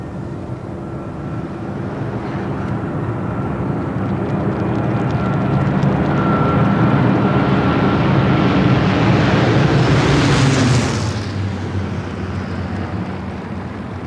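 Aircraft in formation roar overhead at a Battle of Britain 50th anniversary flypast, a loud sustained drone that builds, peaks with a rising whoosh as they pass, then fades, with wind buffeting the microphone.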